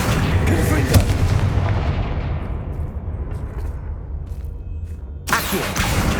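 A Confringo explosive spell in Hogwarts Legacy bursts with a heavy boom and then fades through a long rumbling decay, and a second sharp blast follows near the end.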